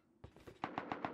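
Automatic gunfire in the video game Rust, a rapid burst of about eight evenly spaced shots, the last several sharper and louder, fired at mid distance with no talking.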